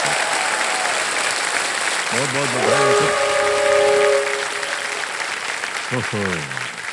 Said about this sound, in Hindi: हमारी जनता ने यहाँ जोर से ताली बजाई है और चिल्लाया भी है